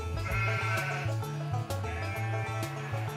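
Sheep bleating in drawn-out, quavering calls over a steady, stepping bass line of music, with the animal calls sitting clearly above the backing throughout.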